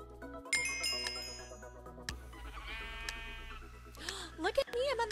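Sheep bleating in the video game Minecraft, short wavering game bleats mixed with chiming game sound effects and music tones, fairly close and clear.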